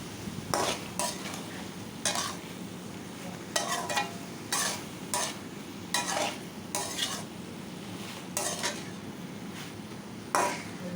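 A spoon repeatedly scrapes and stirs spicy brinjal masala in a pan, with about a dozen sharp irregular strokes over a soft continuous sizzle.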